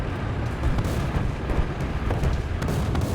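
Artillery fire from a Panzerhaubitze 2000 self-propelled howitzer in War Thunder, a dense rumbling wash of booms and blasts, steady and loud with no clear separate shots, and no speech.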